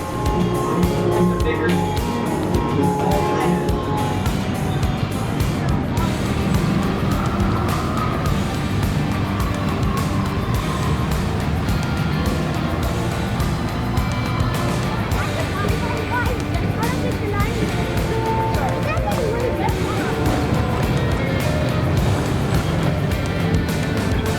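Riding a mine-ride roller coaster at Cedar Point brings a constant loud rumble of the train on the track and rushing wind, with people talking and crowd noise throughout.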